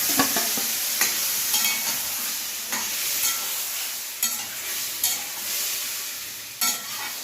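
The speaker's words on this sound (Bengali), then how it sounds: "এবারে আমি ম্যারিনেট করা মাংসটা দিয়ে দিলাম।" Marinated chicken frying in a pan, a constant hiss with repeated spatula scrapes and clinks against the pan at irregular intervals, close and fairly loud, no voices.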